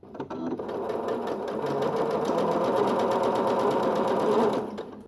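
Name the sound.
sewing machine stitching straight twin-needle pintucks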